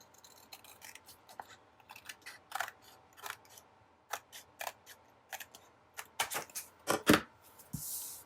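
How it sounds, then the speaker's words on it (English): Scissors cut the top off a paper journaling card from a floral planner kit, a run of short crisp snips and rustles close by and fairly quiet, quickening near the end with a louder paper crackle, no talking. "So I'm going to cut the top off of this."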